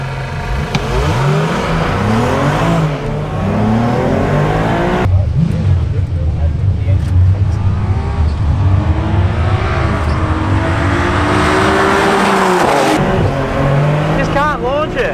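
A 600 whp BMW with an N54 engine and DCT gearbox launches in a no-prep eighth-mile drag race against a Lexus IS 350: loud, close engine revving with rising gear sweeps and brief shift breaks, tire noise, and voices over the top.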